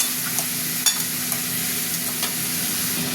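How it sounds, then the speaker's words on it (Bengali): Chicken curry masala frying and being stirred in a pan, a steady close sizzle with a few sharp scraping strokes of the spoon and a constant low hum beneath. "একটু ভাজা ভাজা হতে থাক"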